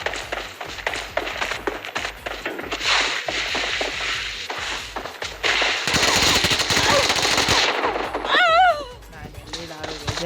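Rapid automatic gunfire rattles through a video game battle in a 1v1 match, bursts of machine-gun shots repeating close and loud, followed by a sustained roar and a warbling electronic tone near the end.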